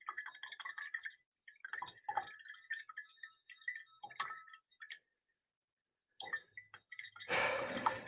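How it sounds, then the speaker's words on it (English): A paint brush rinsed in a water cup during an acrylic painting session: soft taps and drips of the brush against the container, a short pause, then a brief, louder burst of swishing water at the end. "Rinse out that brush."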